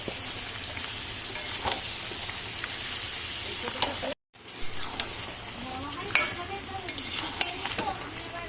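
Mutton and fried potatoes stir-fried in a pan, sizzling loudly and continuously with scraping spatula strokes, a brief cut midway, and a voice talking over the cooking.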